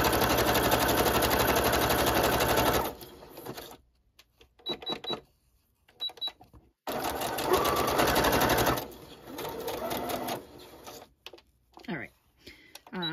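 A sewing machine stitching curled paper envelopes runs in two loud, steady whirring bursts, with quieter stretches of handling and talk between them.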